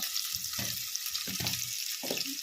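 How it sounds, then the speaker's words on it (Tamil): Onions sautéing in a pan for amla pappu, a steady broadband sizzle with a few soft low scraping or stirring bursts, close and fairly loud, no talk. "ஸோ தட் வெங்காயமும் வதங்கிடும்"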